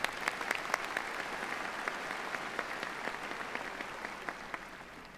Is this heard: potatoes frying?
no